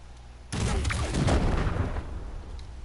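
A single heavy gunshot from a sniper build in Wasteland 3 as objects are targeted, a sudden loud blast followed by a rumbling decay lasting about a second and a half.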